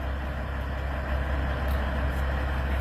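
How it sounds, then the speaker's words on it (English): A big diesel truck engine rumbles deep and steady at idle, close and constant, with no voices. "listening to this fucking truck right here. Idling. Big old motor."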